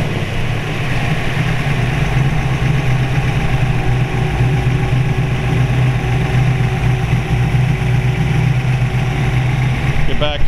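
A 1932 Ford roadster hi-boy with a Brookville steel body idles close by, its engine giving a steady, loud, even rumble that holds unchanged throughout.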